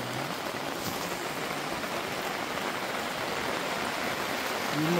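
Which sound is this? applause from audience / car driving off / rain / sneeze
rain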